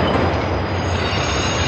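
A train rolls into a rail yard with a loud, close, continuous rumbling roar of wheels on track, heavy and unbroken throughout with no voices.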